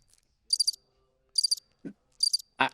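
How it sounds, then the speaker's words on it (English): Crickets chirp in three short trilling bursts, evenly spaced against near silence, with a couple of faint low knocks in between. "Guys, crickets?"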